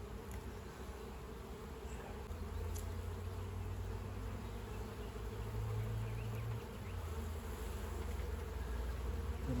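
A dense, continuous buzzing of many honeybees hums steadily close by at an open hive, with no voices.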